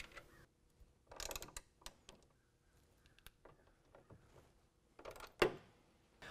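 A nut being threaded back onto a lock washer and tightened during installation of an UnderCover Swing Case toolbox on a 2018 Ford F-250, with scattered close metallic clicks and ratcheting taps and one sharper clink near the end.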